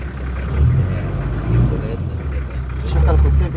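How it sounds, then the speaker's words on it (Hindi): A safari vehicle's engine rumbles steadily while driving through an African wildlife park, a low continuous motor drone with slight surges, close by beneath excited talk. "एक मिनट गाड़ी रोको, गाड़ी रोको।"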